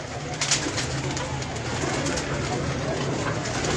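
Pigeons coo softly in a loft among kept birds, low rolling calls repeating over a constant airy background hiss, with no speech on top.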